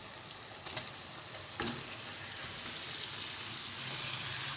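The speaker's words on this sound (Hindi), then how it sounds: "अब हम गोश्त को 10 से 12 मिनट हाई फ्लेम पे हम इसे फ्राई करेंगे" Marinated beef frying on high flame in a pan with ginger and garlic, a steady soft sizzle with occasional stirring clatters and scrapes, close and fairly quiet, no talking.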